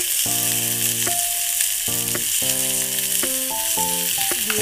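Ginger garlic paste fries with potatoes and onions in a steady, bright sizzle throughout, overlaid by clear sustained musical tones from background music; no voices.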